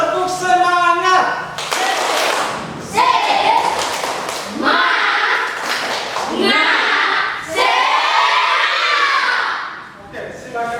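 Schoolchildren in an Indonesian classroom perform the 'tepuk semangat' clapping routine: sharp rhythmic claps in set patterns, mixed with loud group chanting and shouted voices, close and energetic.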